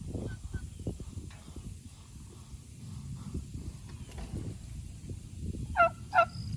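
Farm turkeys mill about close by with soft shuffling and low clucks, then give two short, loud gobbling calls near the end.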